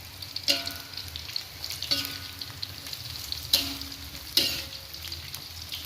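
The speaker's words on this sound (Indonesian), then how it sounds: "Aduk dulu sampai rata ya teman-teman" Oreg tempe, sliced tempeh cooked sweet and spicy, stirred in a frying pan over a steady sizzle, with a few distinct spatula scrapes against the pan spaced a second or more apart, close and moderately loud, with no voices.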